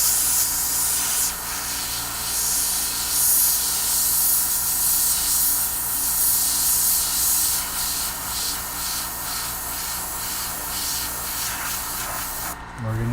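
An airbrush or spray gun paints a She-Hulk bust in a continuous close, breathy hiss of spray with small pulses as coats go on, ending with a brief clatter.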